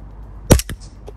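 A WE G17 gas blowback airsoft pistol fitted with a Psionic R-Hop is fired outdoors at night at a target just over 20 meters away, giving one sharp, loud pop followed by a quieter crack, then a faint later tick.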